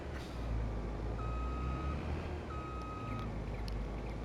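A vehicle's reversing alarm in Farming Simulator 22 beeps in two long, evenly spaced tones over a low, rumbling truck engine idle, moderately near, with no talk.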